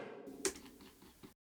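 One take of a tap dancing phrase: a quiet series of light taps with one sharper accent near the start, ending abruptly into silence.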